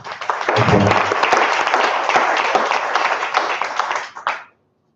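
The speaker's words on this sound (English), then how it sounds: "Another warm round of applause." An audience at an energy-sector ceremony gives a warm round of applause, a full, dense burst of many clapping hands that holds steady, then tapers off and stops abruptly near the end.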